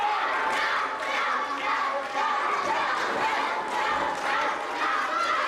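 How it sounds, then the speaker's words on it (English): A wrestling crowd cheers and shouts steadily throughout, a dense roar of many voices at an indoor match as a wrestler fights back up from one knee. "Crowd cheering on Noble as he's up"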